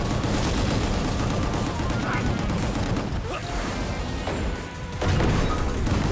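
Gunfire and explosive crashes in the video game Gungrave G.O.R.E, a loud continuous barrage of shots and impacts filling the whole stretch, with a swell of louder blasts near the end.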